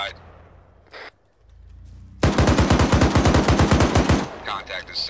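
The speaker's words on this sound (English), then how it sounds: "Warning shots, engage if you have to." Warning shots ring out in ArmA 3: after a few quiet seconds with one brief pop, a loud rapid burst of automatic gunfire hammers out about twenty evenly spaced rounds, then trails off into scattered noise.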